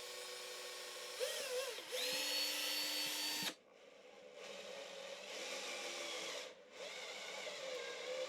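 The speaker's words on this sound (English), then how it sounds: "You have some good markings here, so it should just be to drill these out." A power drill bores out screws locked with threadlocker during an auxiliary switch install on a Land Rover Discovery 3 / LR3, whining loud and steady, then pausing and running again in a second long burst.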